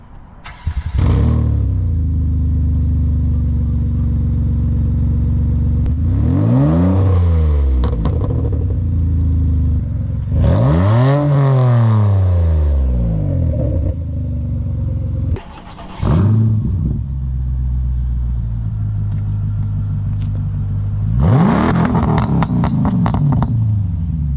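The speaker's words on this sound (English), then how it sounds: "I have the aftermarket dual exhaust setup here, and it sounds pretty good." A car with an aftermarket dual exhaust revs hard several times in separate bursts, each rise and fall of the deep exhaust note loud and close, with idle rumble between.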